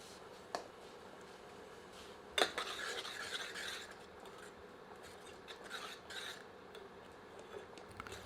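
Mixed greens saag of mustard, bathua and spinach sautéed over medium heat in a pan, with soft scraping and stirring strokes, a sharp utensil clink, and a faint sizzle underneath.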